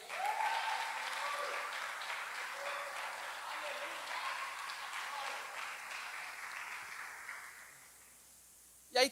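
A church congregation bursts into applause, steady dense clapping that carries for several seconds before fading out, followed by a brief sharp sound at the very end.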